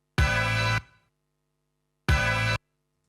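A synth stab sample plays twice in Ableton, two short bright chordal hits with a pause of over a second between them. Each is loud and clean and stops abruptly, with no voices.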